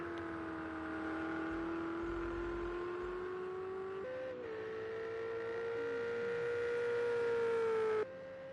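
A race car engine in Project CARS 2 on the Red Bull Ring GP circuit holds a steady, sustained whine, shifting pitch partway through as the car takes the final corners, then drops back abruptly near the end.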